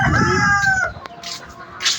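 A rooster at a home in the yard crows once, loud and close, its drawn-out call trailing off after about a second, followed by faint clucks and quiet background noise.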